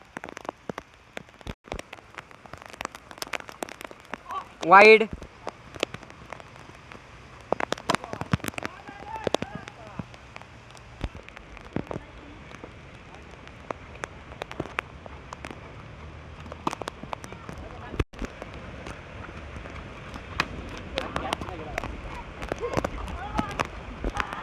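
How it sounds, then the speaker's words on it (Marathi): Heavy rain pours steadily over an open cricket ground, a dense continuous hiss with sharp pattering hits throughout, while voices talk over it intermittently. "बघू शकता पाऊस किती आलाय"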